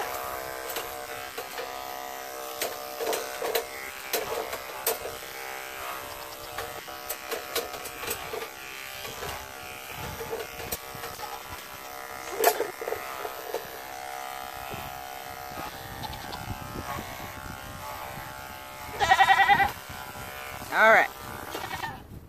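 Electric clippers shave a dairy goat's udder, a steady close buzz with harmonic lines running throughout, growing louder in two brief bursts near the end, with a person talking quietly over it.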